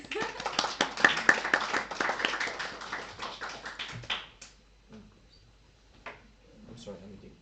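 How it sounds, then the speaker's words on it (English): A small seminar audience claps after a presentation, a burst of close, uneven hand claps for about four seconds that fades out, followed by a few scattered taps and faint voices. "Can we clap?"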